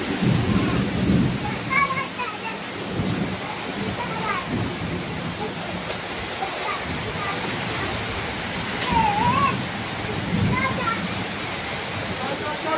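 Torrential heavy rain falling outside makes a dense, steady roar that fills the whole stretch, with a slight swell near the middle. Voices speak faintly beneath the downpour.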